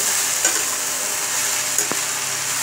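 Potato pieces for aloo bhaji fry in a pan, a steady close sizzle with a few light scraping stirs of a spatula, no voices.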